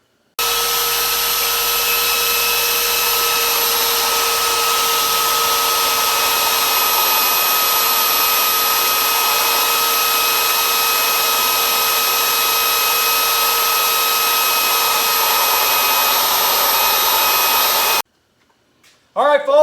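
A power tool runs steadily to shape a blade, giving a loud, constant high whine that holds for about seventeen seconds and then cuts off abruptly, followed by brief faint handling noise.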